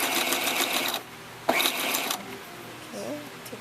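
Sewing machine stitching fabric for a tutu purse, a loud steady mechanical whir for about a second, a pause, then another short burst of stitching, followed by quieter handling sounds.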